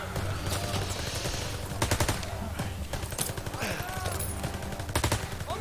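Rapid automatic gunfire and scattered shots in the WWII shooter Call of Duty WWII, dense bursts loud and continuous over a battlefield din throughout.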